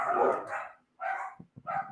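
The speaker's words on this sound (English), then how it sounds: "They just be barking in the morning" A dog barks sharply several times at close range, loud short yelps with brief pauses between them.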